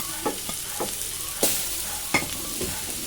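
Onions sizzling in hot oil in a pan for a Kerala onion theeyal, with a steady loud fry and several distinct scraping stirs of a spoon.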